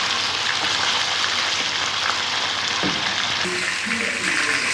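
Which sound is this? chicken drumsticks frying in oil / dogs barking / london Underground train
chicken drumsticks frying in oil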